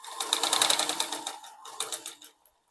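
A sewing machine runs a burst of fast stitching along the side seam of a kurti, loud and close, then slows and stops after about two seconds, with no talking.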